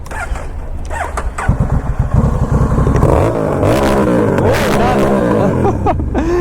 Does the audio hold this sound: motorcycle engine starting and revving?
yes